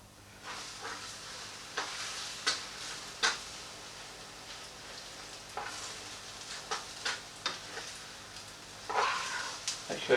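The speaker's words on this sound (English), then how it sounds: "put your batter, ladle your batter into the frying pan like that" Beer batter hisses and sizzles in a frying pan as it is ladled in and spread around, with scattered scraping clicks of the utensil over a continuous frying hiss.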